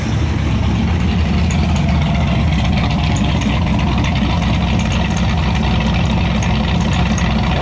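The engine of a Triumph TR8 car idles steadily as it warms up, a loud, even low rumble running continuously throughout with no voices.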